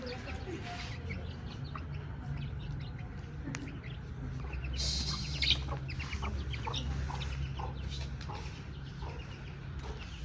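Hens and their chicks cluck and murmur steadily in a noisy yard, with low rumbling background noise and occasional sharper calls throughout.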